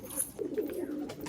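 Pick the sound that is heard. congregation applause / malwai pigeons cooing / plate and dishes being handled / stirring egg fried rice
malwai pigeons cooing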